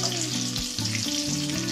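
Food fries in a pan with a constant, close sizzle. A steady tonal background that shifts pitch runs underneath, and no one talks.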